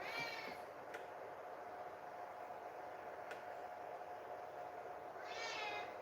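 A cat meows twice in a room, once at the start and again near the end, each call fairly close and clear over a steady fan-like hum, with no talking.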